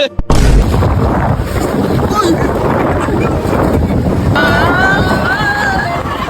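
Strong wind buffets the microphone over the steady wash of sea waves, loud and continuous throughout, with a brief voice at the start.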